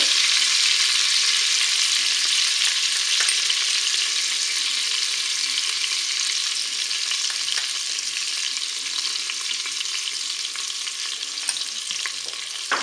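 Honey being stirred into duck magret inside a Cookeo multicooker pot, a loud continuous bright sizzle with occasional small spoon knocks, slowly easing over the length with no voices.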